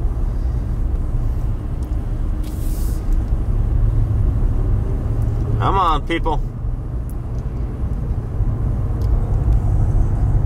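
Steady low road-traffic rumble fills the cabin of a 2019 Ram 1500 truck in congested Amarillo construction traffic, with a brief mid-pitched horn-like tone near the middle and someone talking over it.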